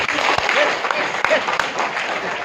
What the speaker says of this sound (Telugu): నా కోసమే ఒక్క క్లాప్ కొట్టండి